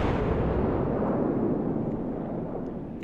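Armor-piercing shells fired from a ZAO cruiser in World of Warships strike a North Carolina battleship with a heavy, rumbling blast that swells and slowly decays.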